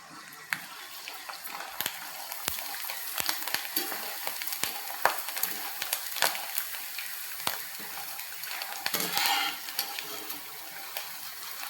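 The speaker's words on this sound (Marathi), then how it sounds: "सांडगे तळून घेतले आणि त्यामध्ये शेंगदाणे आणि हिरवी मिरची घातली" Dried sago and potato sandage fry in hot oil with a continuous crackling sizzle, broken by sharp clicks and taps of a utensil against the pan, close and without speech.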